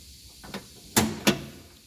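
Inside door handle from a Datsun 1400 fitted to a tailgate, working the latch: two sharp, close metallic clunks about a third of a second apart, after a softer lighter click, in a quiet space.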